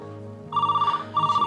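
A household telephone bell rings loudly in two bursts after a low steady hum, each burst a rapid trilling pulse, heard alone with no talking.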